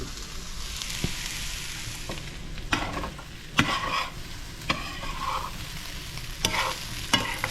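Egg is added to a hot frying pan and sizzles continuously, with a steady hiss broken by sharp scrapes and clicks of stirring and utensils against the pan.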